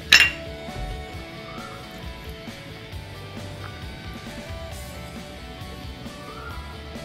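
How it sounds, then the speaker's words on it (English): Spoon clinking against a bowl while yeast and sugar are mixed into milk for bread dough, a sharp clink at the start followed by soft, steady stirring and light scraping. "We're going to mix our 15 grams yeast and sugar to this milk and give it a mix."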